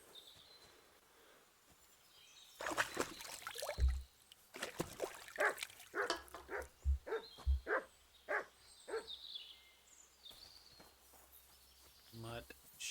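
Dog barking in Kingdom Come Deliverance II, several sharp barks spaced through a quiet stretch, mid-distance, with a voice talking between them.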